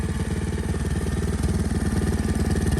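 A small motorcycle engine runs steadily up close, its fast, even, throbbing putter continuous and fairly loud throughout.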